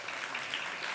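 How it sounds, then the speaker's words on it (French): An audience at a talk on violence prevention and training on film sets claps in a short, moderately loud burst of steady applause, with no talking. "On peut applaudir, s'il vous plaît."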